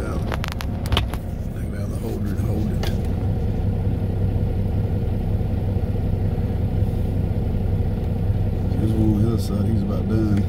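A truck engine runs steadily through a sugar beet harvest, a low continuous rumble with occasional revs under voices talking nearby.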